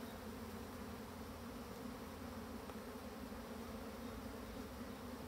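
Black honeybees hum around an open Dadant hive, a faint, continuous buzzing drone with no talk over it.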